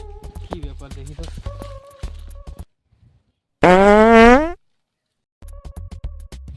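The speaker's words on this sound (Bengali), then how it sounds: "পাদের আওয়াজ শুনতে পেলাম এইখানে" A loud, drawn-out comic fart with a wobbling rising pitch, about a second long, sounding alone between stretches of talk in a Bengali comedy skit.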